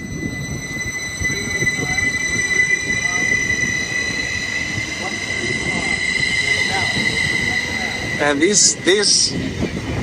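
A commuter train pulls out of Bayshore station, its loud, steady rolling rumble and rail noise filling the platform from start to finish, with a high wheel squeal near the end and a voice speaking briefly over it.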